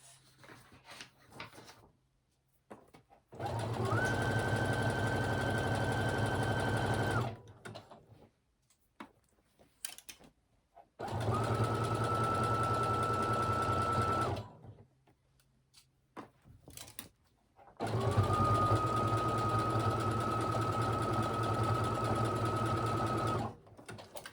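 A sewing machine stitching trousers runs in three steady bursts of several seconds each, with quiet pauses between them, and the whirring motor sounds close and clear.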